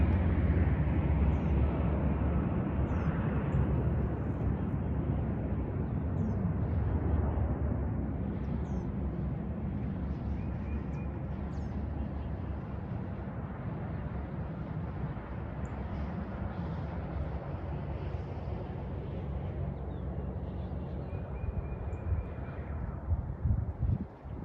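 An airplane passing low overhead gives off a loud, steady roar with an odd rumbling, whooshing quality that lasts throughout, gently fading and swelling as it moves past, with wind buffeting the microphone.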